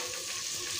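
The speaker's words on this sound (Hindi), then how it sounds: "प्याज और मिर्च को अच्छा गोल्डन कलर होने तक हम फ्राई करेंगे।" Chopped onion and chili fry in hot oil, giving a steady, soft, close sizzle over a brief moment.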